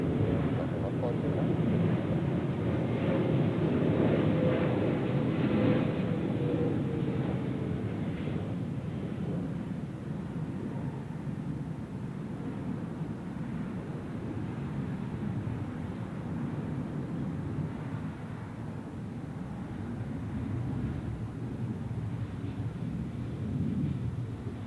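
A heavy jet lands on runway 14 at Zurich Airport, its broad rumbling roar steady and somewhat distant, easing slightly over time, with faint voices in the background.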